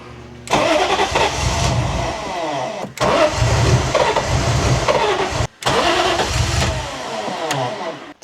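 A BMW E30 M3 fitted with an S54 engine cranks and catches in three close, loud bursts, each settling into a rough running rumble before cutting out briefly, with a short gap between attempts.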